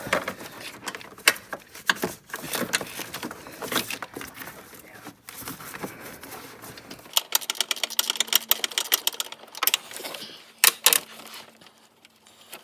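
A flex head gear ratchet unscrews a bolt while a vacuum pump is replaced on a 2002 Volvo XC70, making rapid close-up clicking bursts with brief pauses and some speech between them.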